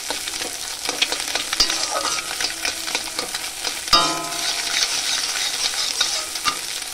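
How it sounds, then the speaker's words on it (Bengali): Two eggs fried and scrambled in oil in a wok, with a constant loud sizzle and repeated scraping, clinking strokes of a spatula, one sharper knock partway through. "তো দুটো ডিম আমি ভেজে নিচ্ছি, বেশি দিইনি। এভাবে ঘেটে ঘেটে ভেজে নিতে হবে।"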